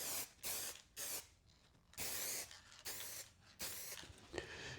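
Short hissing bursts of a spray gun lay clear coat lacquer over a red car panel, five or six separate passes of roughly half a second each, with quiet gaps between them.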